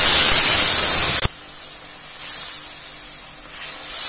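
Oil hits a hot kadhai with a loud, broad sizzle that cuts off abruptly after about a second, followed by quieter, fainter frying hiss swelling in and out.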